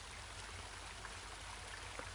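River water streams softly and steadily in the horror game Home, a faint continuous trickling wash with a small splash-like tick near the end, no talking.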